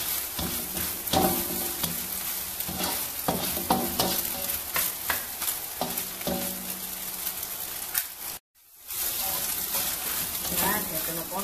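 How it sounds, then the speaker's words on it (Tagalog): Mixed seafood fried rice sizzles steadily in a hot pan while being stirred, with repeated scraping strokes over continuous frying, close and moderately loud, briefly cutting out near the end before resuming. "Medyo pa-fry po natin siya ng maganda, may pagka-brown-brown."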